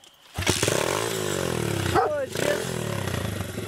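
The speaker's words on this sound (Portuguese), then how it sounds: "Esta moto é mesmo boa." A motorcycle engine starts up and revs loudly close by, a rising and falling roar with a brief drop in pitch and a second rev after a short pause.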